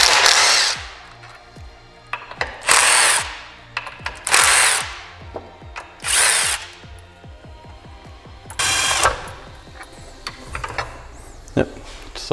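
A power tool spins 12 mm nuts off the shifter mechanism of a Nissan CD009 transmission, several loud separate whirring bursts, close, with metallic clicks and tool handling in between.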